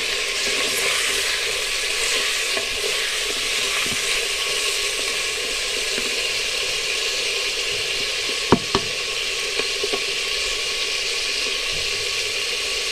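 Meat for aloo gosht sizzles steadily in hot oil in a pot, a continuous loud frying hiss with a few faint clinks of stirring and no talk.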